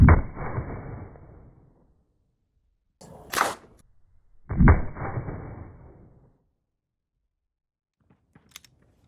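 A 4.5 inch barrel handgun fires a round into ballistics gel outdoors; one sharp, loud crack opens with a decaying tail, followed by a second fainter transient and a later burst, with near-silence between.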